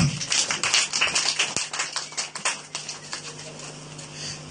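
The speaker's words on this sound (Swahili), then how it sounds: "Hebu tupigie Bwana makofi makubwa." A church congregation at a Sunday service claps for the Lord in a strong, rhythmic burst of many hands that gradually thins out and fades, with a faint steady hum beneath.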